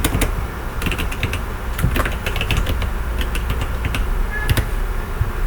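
Fast keystrokes click on a computer keyboard in quick irregular bursts over a constant background hiss, close and fairly loud, with no voices.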